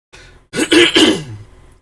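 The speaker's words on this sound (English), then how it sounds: "I'll clear my throat eventually" A single person clears their throat up close: a short rough rasp followed by a couple of quick guttural scrapes, then quiet.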